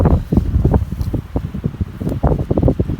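Strong gusty wind buffets the microphone in a field in Ukraine, producing loud low rumbling bursts throughout with no voices.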